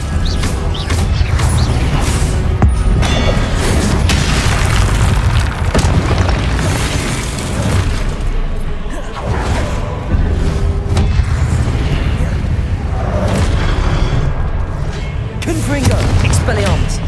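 Spell explosions and bursts going off in Hogwarts Legacy during a running battle, loud booms and crackling impacts repeating almost without pause under dense game sound.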